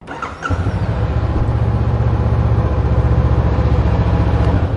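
A Honda CB500X motorcycle, in neutral on its stand, cranks briefly and fires up, then settles into a loud, steady, close idle with a low, even thrum.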